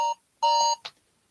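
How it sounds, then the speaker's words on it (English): A beeping alarm sounds in a few loud bursts: two long tonal beeps, then a short chirp, each close and clear with no talking over them. "Hey, that's my alarm."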